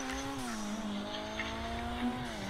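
Car tires squeal in the video game GTA V, a steady, loud, high-pitched whine that holds for a few seconds and bends slightly in pitch, without speech.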